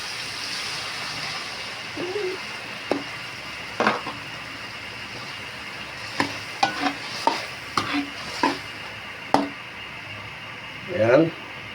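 Pork sizzling in a pan for tokwa't baboy while it is stirred; a constant frying hiss runs underneath repeated scraping and clattering strokes, with someone talking over the cooking.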